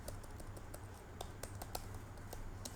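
Quick, light keystrokes on a computer keyboard, an irregular run of soft clicks, quiet and close, with no talking over them.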